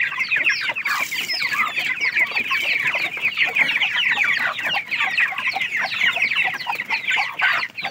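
A flock of 45-day-old broiler chickens clucks densely and continuously at close range, with overlapping chatter throughout and no talking.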